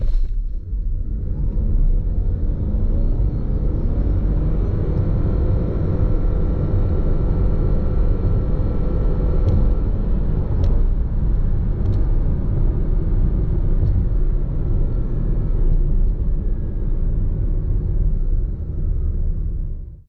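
A 2024 Mitsubishi Outlander plug-in hybrid accelerating in tarmac mode, a steady loud low rumble of road and drivetrain noise heard from inside the cabin for the whole stretch, with no one talking.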